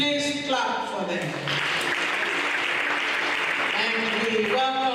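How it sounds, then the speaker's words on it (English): Audience applause at a ceremonial gathering, a broad wash of clapping that rises between stretches of amplified voices and music, with talk over the start and end. "Please clap for them"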